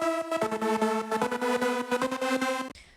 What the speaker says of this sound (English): So it's basically just a gated pad